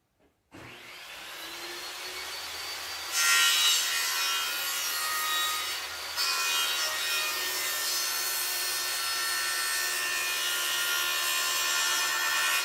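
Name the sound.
sawing a wooden board lengthwise (ripping)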